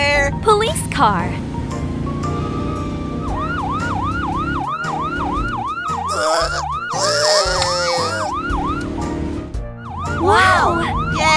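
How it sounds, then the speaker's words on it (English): Cartoon police car siren wailing in repeated rising-and-falling sweeps, loud and close, with animated character voices talking and exclaiming over and around it. "Police car."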